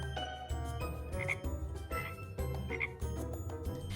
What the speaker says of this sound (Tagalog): Wow, palaka.